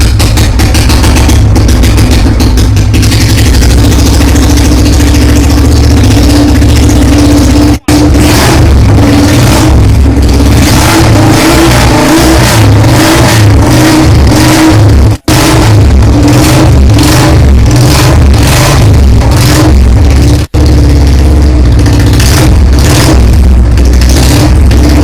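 A Royal Enfield Bullet 350 motorcycle engine, started after sitting for a year, runs loud and close with a thumping single-cylinder idle and repeated revs rising and falling over about twenty-five seconds, with no talking.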